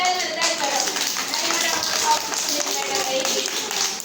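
Children clap during a classroom alphabet activity, a loose patter of many hands mixed with voices and a teacher talking over it.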